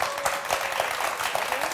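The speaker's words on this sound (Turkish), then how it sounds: "4 tane adam alkışladı." A few studio audience members clap steadily on a Turkish television dating show, a short burst of fairly close, even clapping with no voices over it.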